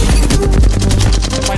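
Rapid automatic gunfire in Apex Legends, a dense burst of evenly spaced shots that runs loud and close for about a second and a half.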